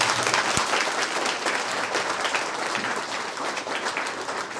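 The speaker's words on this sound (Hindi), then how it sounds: "एक बार जोर से ताली बजा दीजिएगा।" An audience applauds loudly at a felicitation of bishops and priests after Mass in a village, a dense, steady clapping crowd sustained throughout without speech.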